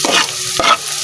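Onion and garlic sizzle in a stock pot as they are stirred, a loud, close crackling hiss with two sweeping bursts in about a second, no voices.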